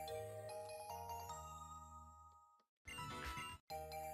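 A phone's voice assistant gives its activation chime: bright, ringing tonal notes that hold and fade over a couple of seconds. A brief broadband burst follows, and no one speaks.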